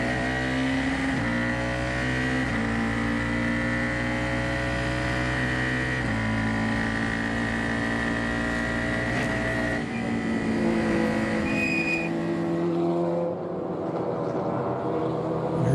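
Formula 4 race car lapping the 3.4-mile, 20-turn Circuit of the Americas, its engine droning loud and steady through the gears with shifting harmonic tones, easing off briefly near the end.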